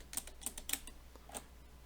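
On a Friden STW10 mechanical calculator, keys and the keyboard lock are pressed, giving a short run of sharp mechanical clicks and clacks, close and fairly faint, with no voices.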